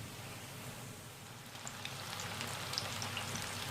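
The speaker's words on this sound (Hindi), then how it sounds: "इसी तरह से मैं बाकी जो चिकन है वो भी मैं फ्राई कर लूँगी।" Chicken pieces for chicken 65 frying in hot oil, a steady broadband sizzle with faint crackles and pops, close and continuous, growing slightly louder, with no talking.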